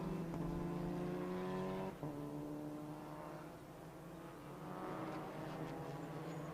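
Volkswagen Polo race cars at speed on a circuit, a loud buzzing engine note that drops sharply at a shift, then climbs again as another car passes, heard alone without talk.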